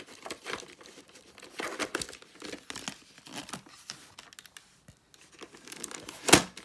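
A VHS tape's packaging is unwrapped by hand: irregular crinkling and rustling of plastic and cardboard, fairly close, with a sharp louder tearing crackle near the end.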